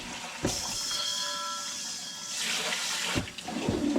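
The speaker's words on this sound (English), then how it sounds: "now we're going to fill it with" Fresh water from a tap runs steadily into a pot that held salt seasoning for curing ham, a continuous splashing rush lasting several seconds, close and fairly loud, with brief clanks as the flow starts and stops.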